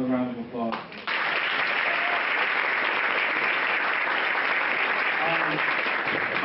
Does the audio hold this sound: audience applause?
yes